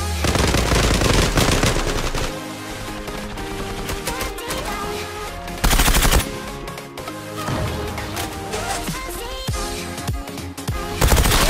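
Rapid automatic gunfire in the online shooter game Zula, dense bursts and rattling volleys filling the whole stretch, with brief louder peaks and short pauses between strings of shots.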